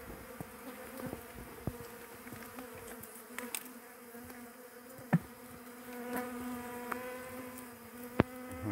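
Honey bees buzzing around a hive lodged in a vine during a honey harvest, a close, continuous drone with individual bees whining past and occasional sharp knocks, no one speaking.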